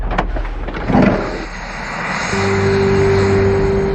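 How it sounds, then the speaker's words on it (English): An air ambulance helicopter comes down to land, its loud rotor and turbine roar close and steady, building into a sustained engine whine with no voices. "It's been a bumpy descent, but finally, Colin lands his team."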